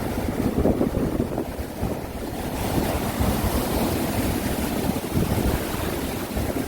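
Huge waves roll and crash onto the rocky shore at Yeonggeumjeong beside Dongmyeong harbor, a loud continuous roar of surf churning without pause, with heavy wind buffeting the microphone throughout.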